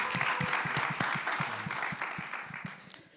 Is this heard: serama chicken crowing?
no